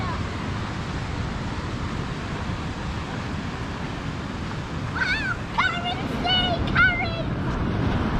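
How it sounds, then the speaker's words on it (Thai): Strong sea waves at a beach make a loud, constant broadband roar and wash throughout, with a few brief high-pitched animal cries near the end. "คลื่นมันแรงมากเลย"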